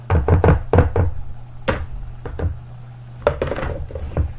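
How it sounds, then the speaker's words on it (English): A spoon stirs flour into cranberry applesauce muffin batter in a bowl, giving a quick run of close, hollow knocks and clinks against the bowl, then a pause and a few more scattered taps. "I'm just stirring my flour in good."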